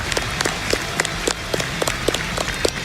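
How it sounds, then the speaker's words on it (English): An audience applauds steadily, a dense patter of clapping hands that continues throughout at moderate volume. "Can we get another round of applause for Shredberg?"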